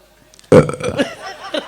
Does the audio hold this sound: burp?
yes